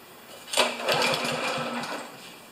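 A Honda walk-behind lawn mower engine catches with a sharp start and then runs unevenly at a fairly low, rattling idle for a couple of seconds before fading slightly.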